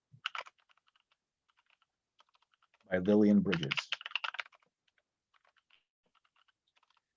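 Computer keyboard typing, scattered key clicks before and after a short burst of speech, close and fairly quiet.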